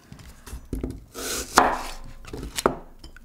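Onions being chopped with a knife on a cutting board, several sharp, close knife strikes in an uneven rhythm with softer scraping between, no talking.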